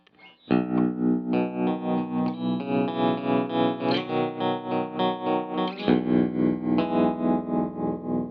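Electric guitar chords through a JHS 3-Series Harmonic Tremolo pedal on its regular tremolo setting ring out with a pulsing throb as the volume swells and dips rhythmically, played alone and fairly loud.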